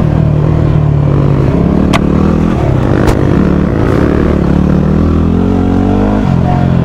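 A motorcycle engine idles loudly and close by, a continuous low rumble with slight shifts in pitch throughout, with no voices over it.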